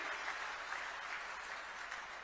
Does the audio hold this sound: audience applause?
yes